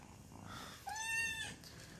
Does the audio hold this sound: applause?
no